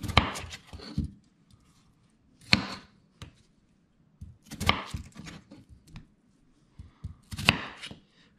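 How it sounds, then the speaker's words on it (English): A knife cuts a potato into fries on a board in separated bursts of chopping, each a quick run of sharp, close thuds with quiet pauses between. "The thing I'm gonna do is I'm gonna cut the potato."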